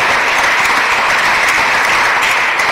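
A crowd at an outdoor ceremony claps in dense, sustained applause for the sub-prefect, loud and even throughout with no voices on top.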